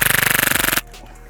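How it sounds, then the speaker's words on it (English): A Tandemkross Cthulhu airsoft gun with frost built up inside fires a rapid, evenly spaced burst of about twenty shots lasting under a second, loud and close, then stops abruptly. "when I charge it, it'll fire."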